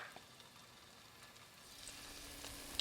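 Spoonfuls of ripe banana fritter batter fry in hot oil for a Jamaican breakfast, giving a faint, soft, continuous sizzle that grows slightly toward the end.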